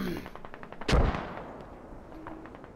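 A mortar round explodes in Squad, a 40v40 match in Lashkar Valley, landing as one loud heavy boom that decays into a rumble. Sharp distant shots keep popping in a steady rhythm before and after it.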